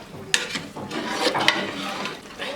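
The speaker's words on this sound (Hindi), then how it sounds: "अब इसी भुनी में हम अच्छी तरह अपना चिकन जो है इसको पकाएंगे।" Chicken korma being cooked in a large pot, with scraping, rubbing stirring and a light sizzle running continuously at close range.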